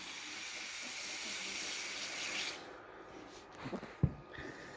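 Water runs in a soft, steady trickling hiss while a Brachypelma auratum tarantula enclosure is watered, then stops, leaving a few faint knocks and small handling sounds.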